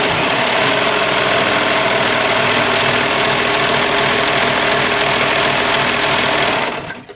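A three-thread serger runs a rolled hem along the edge of a girl's peasant dress, a loud, fast, continuous mechanical whir close by for about seven seconds before stopping, with no talk.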